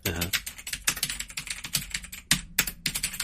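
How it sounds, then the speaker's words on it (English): Keys clatter on a mechanical keyboard in quick, uneven bursts of sharp, close clicks with short pauses between runs, and no voices are heard. "If you said mechanical keyboard, you're correct."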